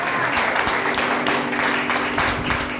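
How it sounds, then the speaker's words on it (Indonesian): A church congregation applauds with dense, sustained clapping, loud and close, filling the whole stretch with slight surges. "Beri tepuk tangan bagi Tuhan."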